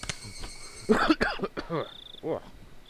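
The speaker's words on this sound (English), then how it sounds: "Also, I need to cough." A couple of short, harsh coughs close by, mixed with throaty vocal sounds and a faint steady chirp in the background.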